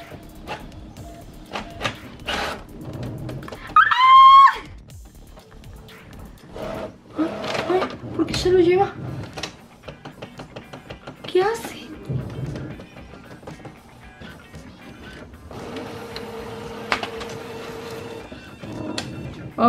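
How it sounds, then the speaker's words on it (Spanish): An office printer runs through a sheet with mechanical whirs, clunks and feed rattles in uneven bursts, while someone talks and reacts over and between the machine noises. "le voy a dar a imprimir"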